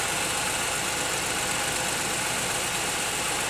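A Pontiac Aztek engine idling rough with a misfire, giving a steady, dense mechanical rumble with an uneven shake that runs unbroken and fairly close for the whole stretch, with no voice over it.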